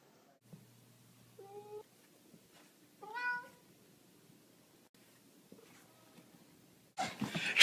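A house cat gives two or three short, clear meows spaced apart in a quiet room, followed by a burst of rustling movement at the end.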